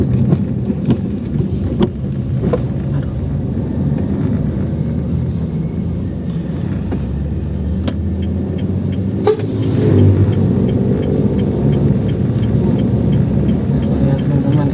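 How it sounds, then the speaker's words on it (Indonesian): Steady road traffic on the Trans-Sumatra eastern highway near Betung, with many trucks hauling transformers, a continuous loud engine rumble and passing vehicles heard from inside a car. "Pagi-pagi truknya ampun banyak banget, transformer semua."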